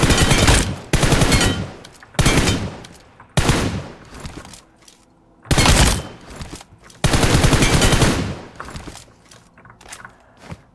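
Several bursts of rapid automatic AKM rifle fire in PUBG Mobile, loud and close, separated by short pauses, with faint footsteps between volleys.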